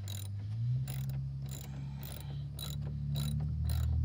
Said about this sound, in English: I'm bolting the front seat.